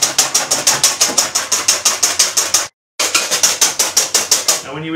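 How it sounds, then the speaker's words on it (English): Egg whites with a pinch of salt being whisked by hand in a bowl: loud, fast and regular strokes, about five a second, that stop for a moment and then resume at the same pace. "And we're just going to whisk that."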